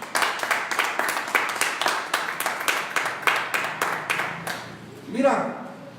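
A church congregation claps in a strong, steady, rhythmic beat, about two claps per second and fairly close, which fades out before a speaker's voice comes in.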